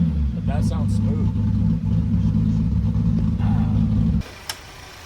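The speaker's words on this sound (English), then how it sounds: "so now we're left with the exhaust sound, which it's just really loud" A BMW E36 M3 with a recent misfire fix idles with a loud, deep exhaust rumble, then cuts off abruptly near the end, while people talk over it.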